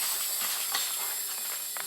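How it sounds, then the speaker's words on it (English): Propane hissing steadily as it transfers from a large BBQ tank into a smaller cold cylinder through an open valve, a faint continuous close hiss with no talk. "start transferring fuel from the big tank to the small"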